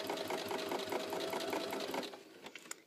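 NQ900 sewing machine running stitch 92, a sideways stitch that feeds backwards like a reverse stitch. A steady, fast, close mechanical whir with a rhythmic needle beat runs for about two seconds, then stops and leaves a few faint clicks.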